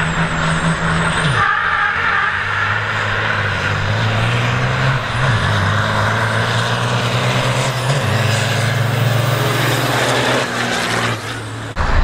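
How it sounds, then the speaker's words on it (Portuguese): A big drag-racing truck launches hard at a truck drag event, its engine roaring loud and close as it accelerates in one sustained pull, with a hiss of air brakes near the start and end. "Eu nunca tinha visto uma arrancada de caminhão"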